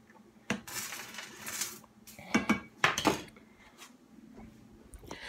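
Pots, pans and cutlery clatter and clink in bursts on the stove while pasta cooks, close by with several sharp metallic knocks and no talking.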